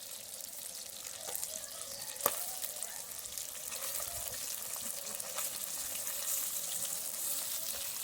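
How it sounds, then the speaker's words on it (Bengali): Katla fish pieces frying in hot oil produce a steady, fairly quiet close sizzle with a few sharp pops, continuous and with no one talking. "মাছটা বেশ ভালোই ভাজা হচ্ছে।"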